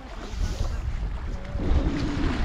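Cold wind buffets the microphone beside Chandra Tal lake, a steady low rumbling gust that swells slightly toward the end, with no talk.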